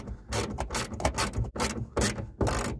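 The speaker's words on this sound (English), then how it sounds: "So you got a lot of leverage with a ratchet." A ratchet cranks a bolt down onto a plastic bracket while fitting new speakers in a 2008 Toyota Yaris, giving close, loud clicking strokes in quick repeated bursts with short pauses between turns.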